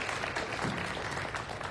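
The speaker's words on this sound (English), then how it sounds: "Please join me in giving another round of applause." Sustained audience applause at a senior assembly, a dense steady wash of many hands clapping at moderate distance with no pauses.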